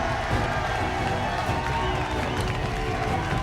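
Crowd applause and cheering fill a hall in the wuxia game Hwalhyeopjeon, a steady, dense wash of clapping sustained throughout without pause.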